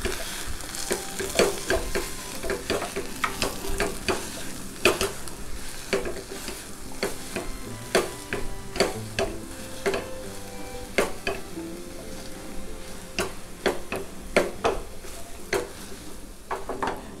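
Mashed green peas stirred and pressed in a frying pan for matar karanji filling, giving steady sizzling with repeated scraping and tapping strokes of a masher against the pan, close up and without talk.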